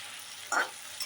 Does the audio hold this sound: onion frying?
yes